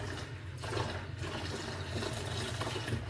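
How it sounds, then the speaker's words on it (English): Warm water pours steadily from a tap into a container at a sink, a continuous hissing gush close by with no talking. "just gotta fill up this thing with some warm water"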